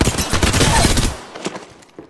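Rapid bursts of gunfire from the Apex Legends video game crackle loud and close for about a second, then thin into a few scattered, fainter shots and clicks.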